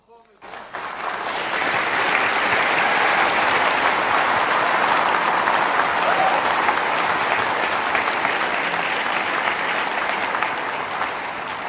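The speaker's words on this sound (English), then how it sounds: "So the little girl is clapping and clapping," A large audience claps loudly and steadily for about eleven seconds at a public talk, a dense, even wash of applause that swells in quickly and holds without breaks.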